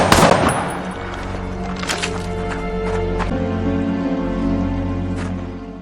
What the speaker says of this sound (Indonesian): Aldo mengaukang senjata dan satu butir peluru bersarang di tubuh Robert